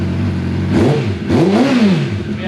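A barn-find Suzuki Bandit 650S motorcycle engine running close up, idling steadily and then revving twice in quick rising-and-falling blips.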